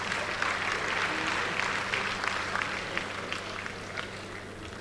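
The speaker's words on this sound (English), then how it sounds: "I want to clap for him." A large audience at an event applauds in praise of a state governor, with steady, full clapping that stays at an even level throughout, crowd murmur mixed in.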